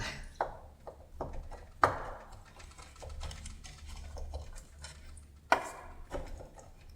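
A knife chops food on a cutting board in a student kitchen, a run of irregular close taps and knocks at a moderate level with a few sharper hits.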